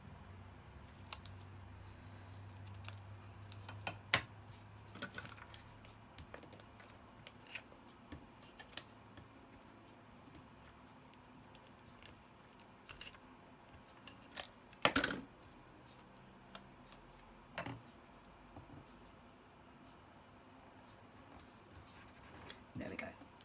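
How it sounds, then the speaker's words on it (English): Scissors cut through card for a handmade card kit, giving a few crisp, quiet snips scattered between long stretches of low room noise. "I'm going to cut those bits off so it's not so obvious."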